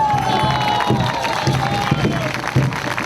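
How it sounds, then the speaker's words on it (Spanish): A crowd at a campaign rally cheers and claps, with shouts and raised voices rising and falling over a few seconds and a loud, busy wash of noise throughout. "Fuerte el aplauso."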